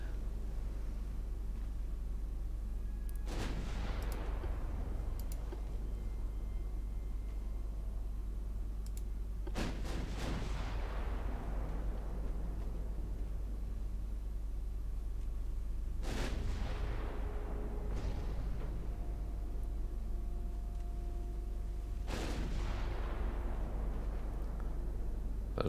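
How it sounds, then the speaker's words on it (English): Naval ship guns fire in the Ultimate Admiral Dreadnoughts video game during a 1940 war: four heavy booming salvos, spaced several seconds apart, each with a rolling decay over a constant low rumble. "At least all my guns are firing."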